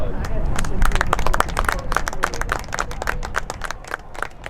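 A crowd at an NCAA Division II women's lacrosse semifinal applauds steadily, many hands clapping together, loud at first and gradually thinning out over a few seconds.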